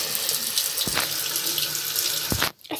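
Tap water runs steadily into a sink, a continuous hiss and splash with a couple of brief knocks, then the flow cuts out near the end.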